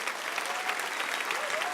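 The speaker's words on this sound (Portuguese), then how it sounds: "o pessoal vai aplaudir vocês mais uma vez" A church congregation applauds during a worship service, a dense, steady wash of many hands clapping together with a faint voice rising briefly beneath it.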